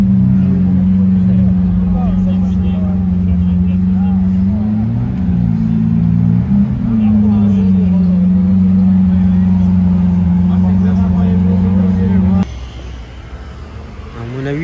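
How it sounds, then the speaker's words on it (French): Orange Aston Martin Valkyrie in Monaco, its engine holding a loud, steady droning tone that wavers briefly in pitch before dropping away, with people talking nearby. "Oh là là, vous entendez? Une Valkyrie orange"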